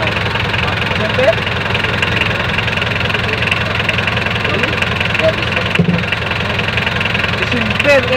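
Car engine with a failing starter motor turns and idles with a steady knocking, vibrating drone that runs loud and close throughout, while people talk nearby.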